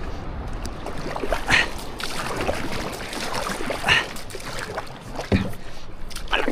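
A small fishing boat pushes against a strong river current near Polillo, with rushing, sloshing water and intermittent splashes and knocks, fairly close and moderately loud.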